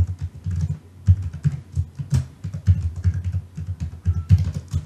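Close, clattery typing on a computer keyboard while filling out an online form, irregular bursts of keystrokes with small pauses, heavy thumpy lows and a quiet room.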